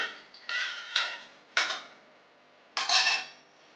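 A spoon scrapes and clinks against a metal pressure cooker while mixing Sindhi dal, in four bursts, close and fairly loud, with short pauses between strokes.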